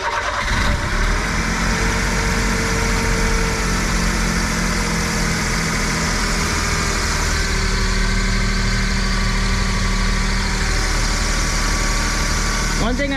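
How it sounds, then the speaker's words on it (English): A Mitsubishi Bravo's small engine, dual overhead cam with five valves per cylinder and fuel injection, cranks briefly and catches, then settles into a steady, close-up idle with a constant low hum and vibration. "Let me start the car now."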